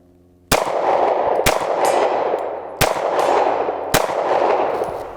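Four loud, sharp Glock 23 shots ring off a steel target at an outdoor range, each with a bright metallic clang and a long fading ring, spaced about a second apart.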